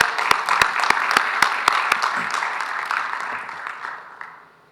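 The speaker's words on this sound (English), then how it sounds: "A round of applause for her." An audience at a plenary session claps for the MC, a burst of applause with a few sharp close claps at the start that fades away toward the end.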